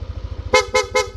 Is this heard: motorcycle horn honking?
yes